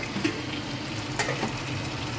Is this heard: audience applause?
no